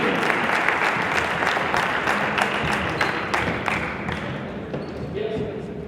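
A crowd at a high school boys basketball game claps steadily throughout, with dense applause and a few sharper individual claps standing out.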